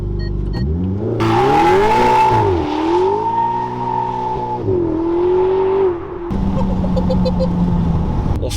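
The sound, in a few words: Ferrari standing start, engine revving, tires spinning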